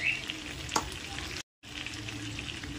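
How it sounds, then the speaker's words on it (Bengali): Cut potatoes with salt and turmeric fry in a pan, giving a steady, soft sizzle close by with a brief stir clatter and a short break in the middle. "এবার আলুটাকে একটু ভাজা ভাজা করে নেব।"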